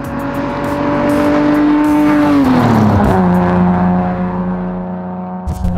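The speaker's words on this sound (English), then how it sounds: "Let's go freaking drive this thing." A custom 1986 BMW E30 is driven hard, its engine revving loud and close with a sustained roar, pitch climbing then dropping through a gear change, with faint tire noise near the end.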